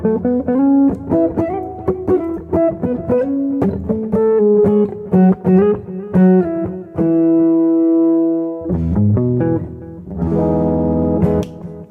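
Clean electric guitar in a jazzy style, played through a BOSS eBAND JS-10 tone patch with reverb, a loud close run of melodic single-note lines and sustained chords, with no voices.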